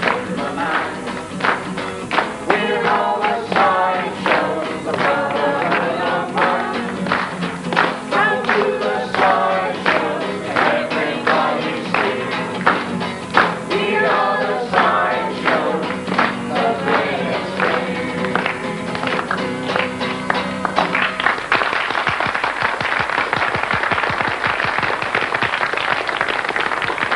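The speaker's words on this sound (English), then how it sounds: "Okay, let's have your clapping." At a Graeae Theatre Company performance in 1981, an audience claps in time to a song. Sharp, evenly spaced claps ride over the music for about twenty seconds, then give way to a rougher, noisier stretch of clapping and crowd sound.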